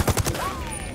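Rapid burst of minigun fire in the video game Ghost Recon Wildlands, a few loud stuttering shots up front followed by a fading whine as the barrels spin down.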